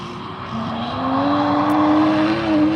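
Drift car number 60 revs hard at Ebisu Circuit in Japan during drift practice, its engine note climbing steadily in pitch and loudness, heard from nearby trackside with no talk.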